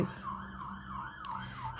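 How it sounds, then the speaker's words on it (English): A police car siren wails in a steady rising and falling pattern at moderate distance, continuing throughout with faint traffic rumble beneath. "I think nearly every single stitch with me has got a police car going past"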